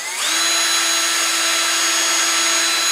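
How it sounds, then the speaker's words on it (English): A power drill fitted with a 1/8 inch bit spins up and whines steadily as it bores a short way into a small turned wooden piece, loud and close, a continuous high motor tone with no talking. "Now I'm going to come in here with an 1/8 inch drill bit and just drill it in just a little bit"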